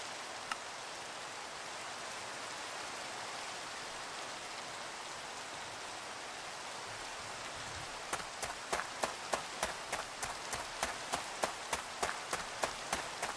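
Steady rain in the Minecraft video game, a continuous soft hiss. About two-thirds of the way through, a string of sharp, regular ticks or taps joins it.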